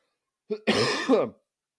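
A single sharp cough with a throaty, clearing quality, close and loud, followed by silence.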